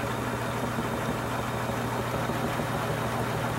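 A small motor spins a wheel at close to 400 RPM, giving a steady, continuous hum and whir that holds level throughout without pauses or other sounds.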